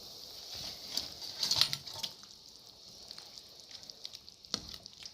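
Fried rohu fish pieces go into a simmering, reduced curry gravy and get stirred, a faint bubbling sizzle with scattered soft clinks and splashes rising briefly in the middle.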